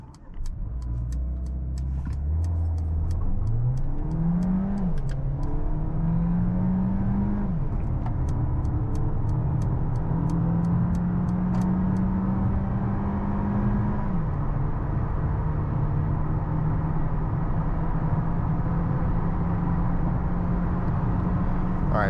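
A 2021 Mercedes-Benz GLB 200 accelerating hard on the Autobahn: the engine note climbs smoothly through several gear changes, each shift dropping the pitch before it rises again, then it settles into a steady drone.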